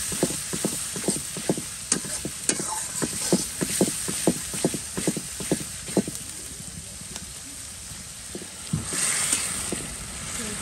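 Spice paste sizzling and frying in a hot pan, with a steady close hiss and frequent sharp spattering pops and scraping clinks from stirring throughout.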